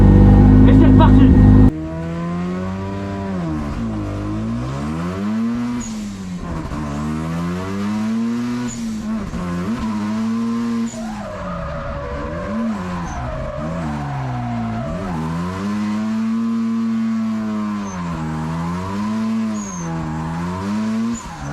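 A drift car at the Spanish drift championship final revs hard on track, its engine pitch swinging up and down in repeated waves as tires squeal through slides, loud and close after a brief burst of wind noise at the start.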